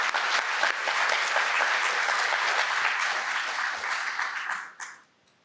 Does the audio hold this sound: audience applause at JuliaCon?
yes